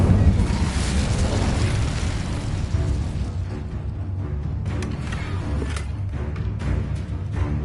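Fire spell cast in the video game Hogwarts Legacy, a dense roaring whoosh of flame held at steady loudness, with small crackling bursts later on.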